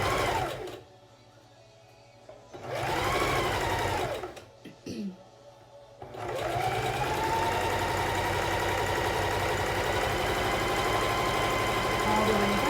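A sewing machine stitches a fabric face mask made to cover an N95, sewing over binding and a large dart; the close motor runs in a short stretch, pauses, then hums steadily for several seconds.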